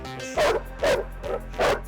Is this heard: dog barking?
yes